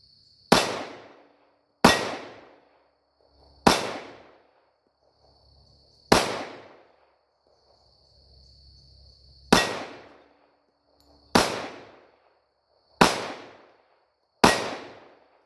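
A Tisas Tanker 1911 pistol fires .45 ACP rounds outdoors, eight loud, sharp shots spaced roughly one to two seconds apart, each with a short ringing decay and quiet gaps between.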